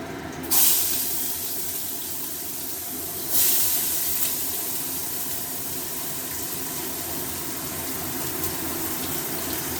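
Chopped onion hits hot oil in a pan with a sharp burst of sizzle, followed by a second burst, then a steady frying hiss that continues alone.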